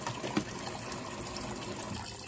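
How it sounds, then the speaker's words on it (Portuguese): Water runs steadily into a Brastemp washing machine as its first rinse starts, a continuous close gushing fill with no talking over it. "Bom, começou o primeiro enxágue."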